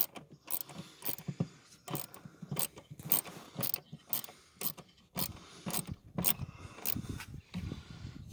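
A part is unscrewed on a Citroen C4 Picasso during an air filter replacement. Short bursts of ratcheting clicks repeat at an uneven pace, close and fairly quiet, with brief pauses between strokes.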